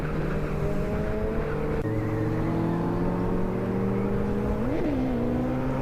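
Suzuki Hayabusa motorcycle at full speed on a highway run, its engine holding a steady high drone with a brief pitch rise and dip near the end, continuous and close, with no talk.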